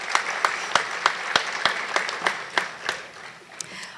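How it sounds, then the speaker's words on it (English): Audience applause at a sports hall of fame ceremony, a steady wash of many hands clapping with sharp individual claps standing out, sustained and moderately loud throughout. "Please give them a round of applause."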